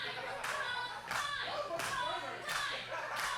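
A wrestling show crowd reacts with rhythmic bursts of chanting and clapping, fairly faint and regular, about one surge every three-quarters of a second.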